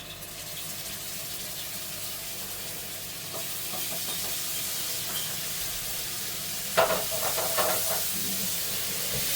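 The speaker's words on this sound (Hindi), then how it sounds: "और इसको अब मैं इसके अंदर डाल रही हूँ 1 टेबल स्पून लहसुन अदरक का पेस्ट" Garlic-ginger paste, one tablespoon, going into a hot pan with keema mince, giving a steady sizzle with a louder burst and scraping about two-thirds of the way through.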